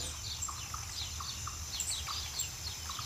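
Birds chirp in the Journey Of Life game, giving repeated short, bright tweets in a steady rhythm over a constant low ambient hum.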